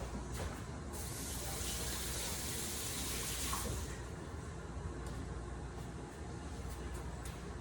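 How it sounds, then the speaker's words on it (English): Kitchen tap running while hands are rinsed under it, a steady broadband splash and hiss that swells briefly and then settles into a continuous close flow. "Let me just rinse my hands."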